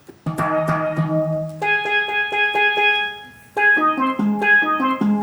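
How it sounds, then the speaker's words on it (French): Bright, bell-like synthetic steel drum notes play a bouncy melodic line, each hit ringing briefly with a metallic shimmer, close and clear with no voices. "c'est un son de steel drum"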